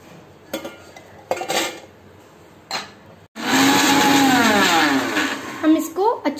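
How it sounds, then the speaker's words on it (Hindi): Light clatter and handling noises, then a mixer grinder switches on and whirs loudly for a few seconds grinding Oreo cookies, its pitch shifting as it grinds. "हम इसको अच्छी तरह से ग्राइंड कर दिए हैं, एकदम बारीक ग्राइंड किया हुआ है।"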